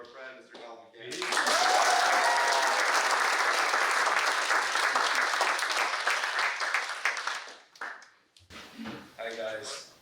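An audience bursts into loud, sustained applause to welcome an author, a dense wash of clapping lasting about seven seconds before fading, with a voice speaking briefly just before it and again after it dies down.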